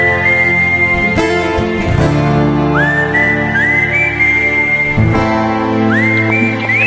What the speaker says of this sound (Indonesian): Siulannya aja ada rocker saudara.